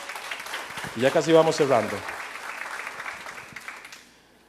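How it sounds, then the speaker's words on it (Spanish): Church congregation applauding during a Spanish-language sermon, a broad wash of clapping that swells with a voice speaking over it, then fades out near the end. "Denle un aplauso al Señor."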